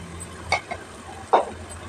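Chili powder and coriander-cumin powder are stirred into a fish curry in a pan: two short, close scraping strokes, the second louder, over a low, faint sizzle.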